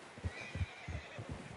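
A horse whinnies and neighs in a short, breathy run of pulsing calls, heard close and fairly quiet with no voices over it.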